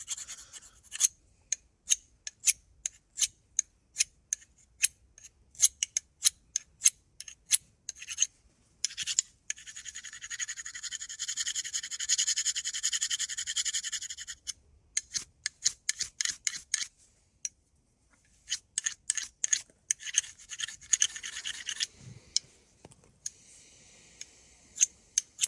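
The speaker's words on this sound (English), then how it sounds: "I just need to scrape the black stuff off it." A knife blade scrapes the black coating off a ferro rod fire striker in short, rapid rasping strokes, close and crisp, with a few longer sustained scrapes and brief pauses between bursts.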